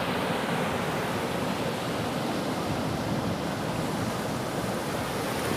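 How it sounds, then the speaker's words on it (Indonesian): Big ocean waves crash on Manalusu beach in south Garut as one loud, unbroken roar of surf and wash. No one speaks. "Wah, ombaknya besar kawan."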